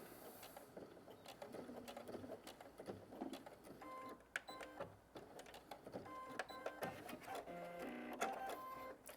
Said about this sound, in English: Drop the needle, back stitch a time or 2, and then go forward.